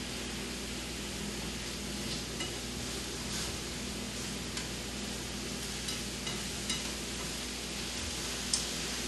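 Butter melting in a pan on the stove, a soft, steady sizzle with faint crackles and a few light ticks, low and continuous, with no talk.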